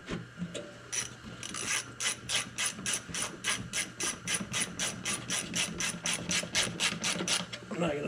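A ratchet clicks in a fast, regular rhythm of repeated strokes while bolts are tightened during an oil change on a 2014 Mercedes ML63, close and fairly clear against a faint background hum.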